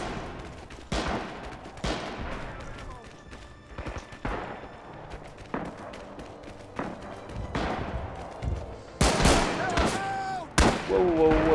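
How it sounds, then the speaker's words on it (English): Gunfire in the World War II shooter Rising Storm on the Saipan map: scattered loud rifle cracks and thumping shots, near and far, build into a heavy volley near the end, with a player talking between bursts. "where am I being shot from?"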